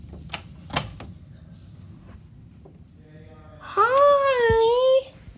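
After a few soft knocks and rustles, a cat at a door lets out one long, drawn-out wavering meow, fairly close.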